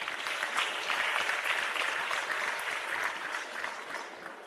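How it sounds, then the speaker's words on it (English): An audience at a government launch of a passenger rail service applauds with a steady, dense wash of clapping that tapers slightly at the end. "We need to give them also a round of applause."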